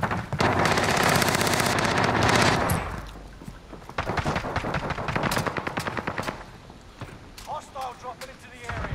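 A PPSh submachine gun fires in rapid continuous bursts in a video game, loud and dense at first, then shorter clattering bursts follow with a voice talking over them.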